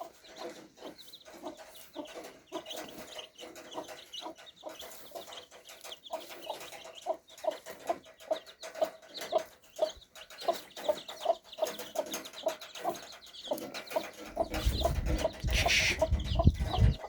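Young chicks cheep steadily at close range on a farm, with hens clucking among them. The chirps grow denser and louder toward the end, where a burst of rustling joins in.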